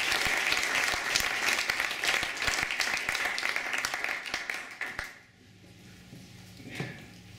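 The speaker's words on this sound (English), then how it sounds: "yeah, you can clap for that." Enthusiastic audience applause at a live jazz quintet concert at Yale, dense clapping with sharp individual claps for about five seconds before it drops off to quiet room tone and a few scattered sounds.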